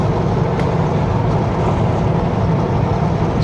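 A pickup truck drives along a road beside Kamloops Lake, giving a steady low engine hum and road rumble from inside the cab, constant and fairly loud with no voices.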